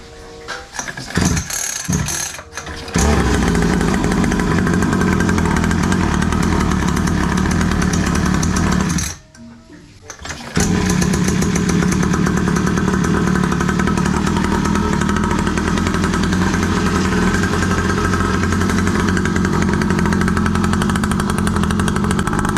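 A dual-pipe 49cc two-stroke kids' mini enduro motorbike engine runs loud and steady after a few brief revs, cuts out for about a second midway, then returns to a sustained buzzing drone.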